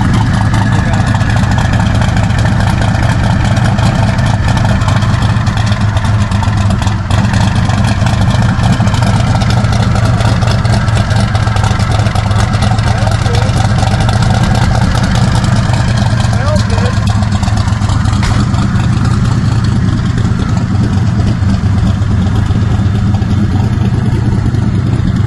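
A twin-turbo LS V8 in a station wagon runs steadily at a loud, constant rumble for the whole stretch, heard from nearby with people talking over it.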